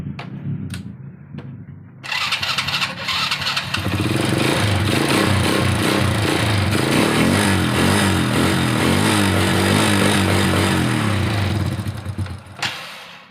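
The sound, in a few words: motorcycle engine running on a test Denso spark plug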